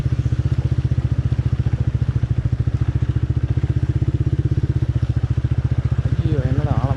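A motorcycle ridden through water on a flooded road near Kanchipuram, its engine throbbing in a steady close pulse throughout. A voice comes in briefly at the end.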